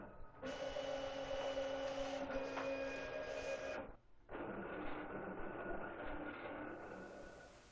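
A Clipper 24-inch vinyl cutter cuts wall graphic material with a whirring mechanical drone and faint tonal motor whine. The run stops briefly midway, then resumes at a lower level, close and steady.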